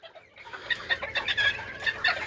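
Serama chickens cluck in their coop, a run of close, repeated soft clucks and chatter in quick irregular rhythm, with no talking.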